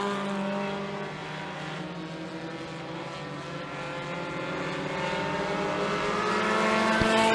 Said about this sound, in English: in this 6-lap heat for the Dow Auto Mini Stocks